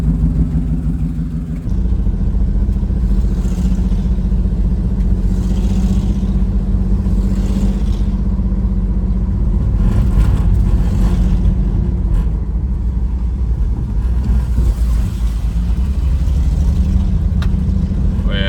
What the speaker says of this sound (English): Got that racing exhaust.